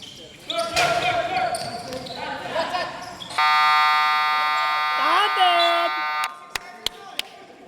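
A loud, sustained electronic game buzzer blares for about three seconds amid crowd noise and voices, followed by a few sharp thuds.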